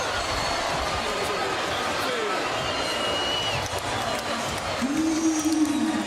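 A basketball arena crowd roars loudly and steadily after a reverse dunk at a college slam dunk contest, a dense wash of cheering that holds throughout, with a voice or horn-like tone rising near the end.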